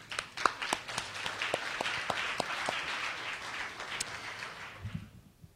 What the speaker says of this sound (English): So I'm going to do a round of applause for you guys.